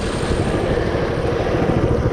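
A 2020 mini bike's small engine drones loud and steady while riding, a dense buzzing roar that holds level throughout with no voices over it.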